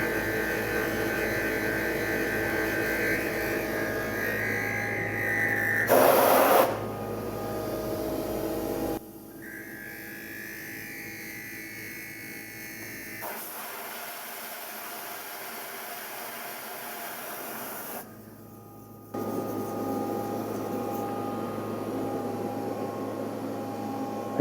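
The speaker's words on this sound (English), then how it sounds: "I'm just kind of manually machining all this." A manual milling machine cuts a plastic injection mold with a long quarter-inch ball end mill, giving a droning motor hum and a tonal whine that shifts pitch between abrupt sections, with a brief louder burst partway through.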